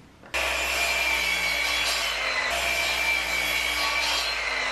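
A power saw cuts through wood pieces meant for a French cleat in a workshop, a loud continuous rasping cut lasting several seconds with a brief dip midway, no voices.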